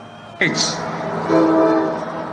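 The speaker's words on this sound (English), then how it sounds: "And here comes the train that he tried to make sure didn't continue to run." Commuter train passing near an outdoor campaign rally in Grand Rapids, Michigan, its horn sounding suddenly and loudly, then sustained horn tones with rumbling rail noise and crowd ambience.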